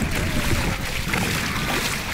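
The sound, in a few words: waves lapping on a lake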